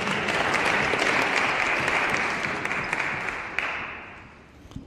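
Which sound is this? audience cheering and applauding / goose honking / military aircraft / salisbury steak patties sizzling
audience cheering and applauding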